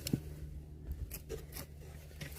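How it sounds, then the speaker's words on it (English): Drain sock and pipe for a yard French drain cut by hand outdoors, a few short snipping and crunching cuts, close and fairly quiet, with a low hum underneath and no talking. "Just cut the sock and the pipe."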